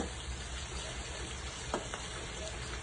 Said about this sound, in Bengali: আমরা শুকনো ঝাল ভাজি করব